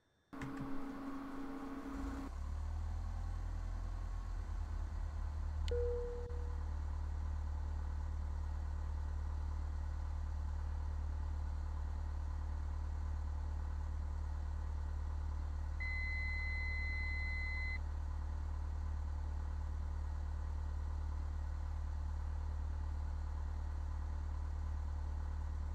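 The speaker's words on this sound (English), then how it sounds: "Right, let's get the engine started." An aircraft engine starting in Flight Simulator X: a low rumbling drone builds and settles into a steady idle hum that runs throughout, with a couple of faint electronic beeps.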